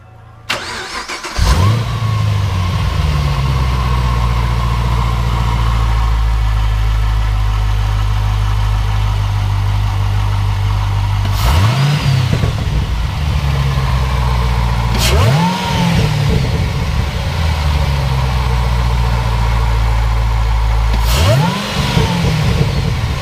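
A 2012-2015 fifth-generation Camaro ZL1 fitted with a Roto-Fab cold air intake cranks over and starts, then settles into a loud, steady idle broken by three sharp revs spaced several seconds apart, with no talking.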